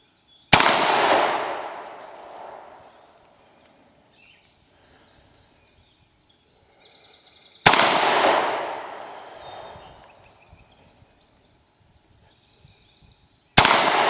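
Three sharp, loud gunshots from a 30-30 rifle firing Hornady ZombieMax ammunition outdoors, each a sudden crack followed by a long fading echo, spaced several seconds apart.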